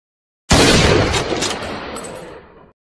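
An AWM sniper rifle fires once in a video game, a single sharp close blast that rings out and decays into a long rumbling tail over about two seconds.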